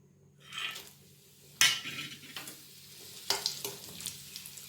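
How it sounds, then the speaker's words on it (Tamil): Dried chillies (milagu vathal) frying in hot oil in a home kitchen, a soft sizzle broken by sharp metallic clinks and scrapes of a ladle stirring in the pan, with quiet gaps between strokes. "இது வந்து எண்ணெயில் போட்டு பொரிச்சு எடுத்துக்கிறேன்"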